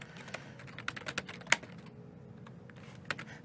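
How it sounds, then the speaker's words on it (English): Close keyboard typing, a quick irregular patter of key clicks with a few louder taps. No voices. "I'm being yelled at for typing too loud"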